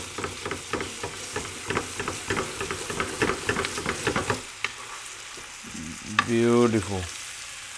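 Chicken frying in butter in a pan over high heat, a steady crackling sizzle with stirring clatter for about four seconds that then eases off, followed by a brief exclamation from a voice.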